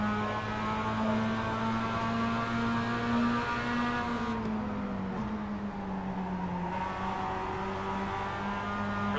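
Mazda MX5 race car engine at Bathurst, droning steadily at high revs from inside the car, dipping slightly and rising again as it works through a corner.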